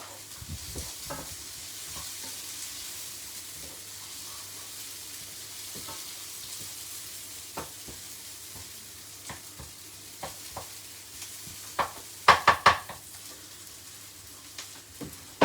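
Chicken noodles stir-frying in a hot pan, a steady sizzle under repeated sharp clatters of a utensil scraping and tossing, louder bursts near the end; no one speaks.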